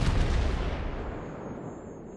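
A World of Warships volley from the battleship Arkansas's main guns: one loud, deep, booming blast that rolls and slowly fades over about two seconds, heard alone.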